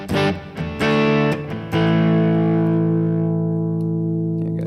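An electric guitar strums a few chords and lets the last one ring, with a washy reverb tail lingering as it slowly fades.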